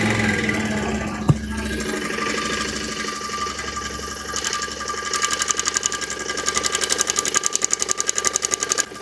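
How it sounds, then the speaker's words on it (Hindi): A Bajaj Pulsar motorcycle engine starts and idles with a loose timing chain, settling into a fast, even mechanical ticking rattle that grows more pronounced over the idle. "चलिए एक बार आपको मैं बाइक स्टार्ट करूँ यहाँ पे।"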